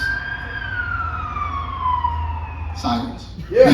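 A siren wails in a long, slowly falling tone, fairly loud, before breaking off as other sounds come in at the end.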